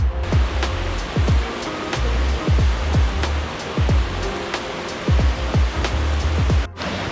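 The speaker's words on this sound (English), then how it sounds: "But I can hear the waterfall, guys. I can hear the waterfall." Distant waterfall roaring during rain in Wales, a steady broadband wash of water noise with repeated low thumps, such as footsteps, layered over it.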